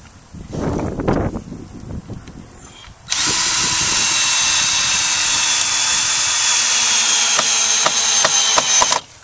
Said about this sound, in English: These decking screws don't need pre-drilling.